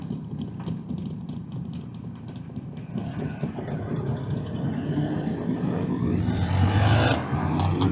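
Jawa motorcycles overtaking and passing by on a road trip toward Estonia, engine roar building steadily over a constant travel drone and peaking loud near the end as they go past.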